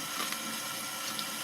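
Tap water runs steadily over pre-washed food being rinsed in a kitchen sink, a soft continuous splashing hiss, close and moderately quiet, with no talk.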